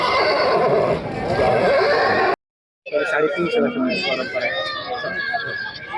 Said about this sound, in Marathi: येवलेश येथे घोड्याचा बाजार हा गेले साडेतीनशे वर्षापासनं राजे रघुजीबाबांच्या काळापासनं भरतो दर मंगळवारी